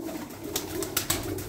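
Tumbler pigeons coo softly in a coop, low murmuring calls over a faint background, with a few light wing flutters or scuffles close by.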